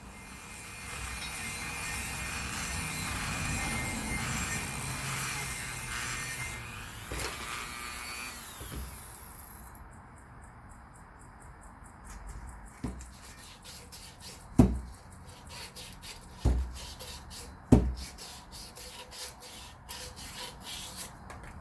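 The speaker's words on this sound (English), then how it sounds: "I gave it a good sand out" A part is sanded by hand during a GM 8.25 differential rebuild. Steady close rubbing and scraping runs for about ten seconds, then gives way to a few isolated knocks and scrapes. No one talks.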